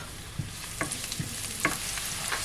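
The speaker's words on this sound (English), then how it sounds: "I'm putting the cumin, let it sizzle a little bit." Cumin and chopped garlic sizzle quietly in hot oil for a curry of okra and potato, a faint steady fry broken by a few soft stirring scrapes.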